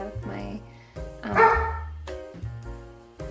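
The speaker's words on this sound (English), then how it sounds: "My dog is barking." A dog indoors barks at kids playing outside, a few loud barks and yips separated by short pauses, with no talk over them.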